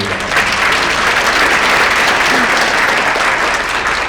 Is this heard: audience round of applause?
yes